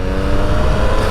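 Triumph Speed Triple motorcycle engine held at a loud, steady rev, close by, with a rough low rumble and no talking.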